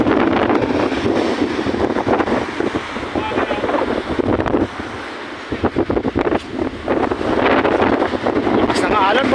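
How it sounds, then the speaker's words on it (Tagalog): Strong wind buffets the microphone and rough surf churns at White Beach, a dense, continuous roar of waves and gusts with a voice talking over it. "Lakas ng alon boy."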